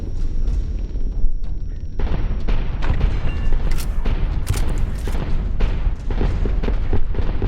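A pulse grenade blows up during combat in the video game Fallout: New Vegas. Loud, continuous booming and crackling blasts roll on steadily for several seconds with no pause.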